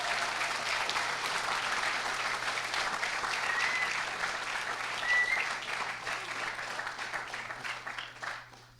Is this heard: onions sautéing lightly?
no